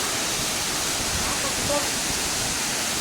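A constant roar of rushing water from a waterfall dropping off a cliff at Khlong Lan, Kamphaeng Phet, broad and unbroken, heard close by, with a faint voice buried underneath.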